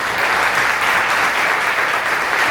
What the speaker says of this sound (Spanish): para quien pide un aplauso de alabanza